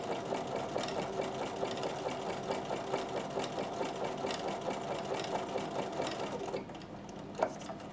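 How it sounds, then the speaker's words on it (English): A Bernina sewing machine runs steadily for about six and a half seconds in a fast, even zigzag stitch along a postcard edge, then stops, leaving a quieter pause with one small click. "I'm going to sew all the way to the end here"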